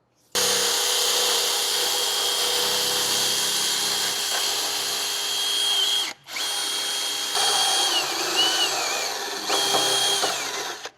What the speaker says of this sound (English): I'm going to get a drill with a wire wheel, and we're going to start by cleaning the ends